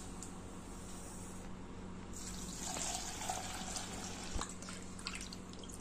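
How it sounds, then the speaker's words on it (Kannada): Idli semolina being washed by hand in water for sabudana idli, with soft dripping, trickling and sloshing throughout at close range. "ಈಗ ಇಡ್ಲಿ ರವೆ ತೊಳ್ಕೊಂಬಿಡೋಣಂತೆ."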